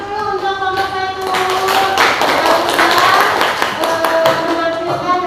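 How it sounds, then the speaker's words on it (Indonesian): Applause for a student group after their presentation in a classroom: steady, moderately loud clapping from many hands over a voice talking, continuing throughout. "kita kasih aplaus dulu untuk kelompok 1"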